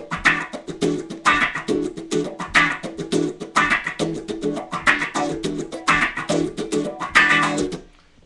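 Electric guitar through a wah pedal rocked on beats 2 and 4, giving a steady rhythmic vocal-like sweep to a strummed pattern that repeats in even pulses, loud and alone before fading at the end.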